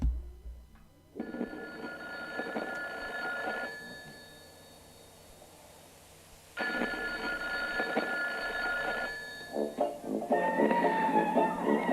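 A telephone rings with a classic bell: two long, loud ringing bursts separated by a quiet pause, then a third ring beginning at the end.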